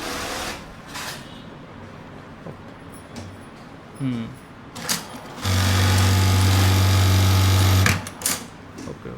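Computerized Brother sewing machine stitching shirts in a garment factory: a steady, close motor whir runs for about three seconds after scattered handling noises and workshop clatter.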